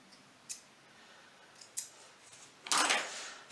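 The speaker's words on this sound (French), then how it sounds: "Il n'y a plus qu'à couper tous les petits fils." Scissors snipping loose sewing threads from a finished bib, with a few quiet, separate close snips and then a louder crisp cut near the end in a quiet room.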